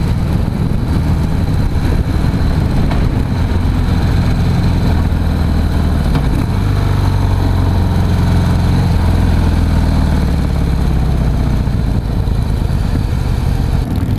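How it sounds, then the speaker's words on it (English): A 2016 Harley-Davidson CVO Pro Street Breakout motorcycle runs close by, its V-twin engine and exhaust giving a loud, steady low rumble with uneven throb, alone without talk. "Exhaust sounds really good already."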